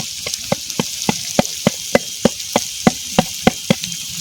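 Onions frying in a pan for village-style vegetable chowmein under a soft hiss, with a regular series of about fifteen sharp knocks as a spatula strikes the pan roughly every third of a second.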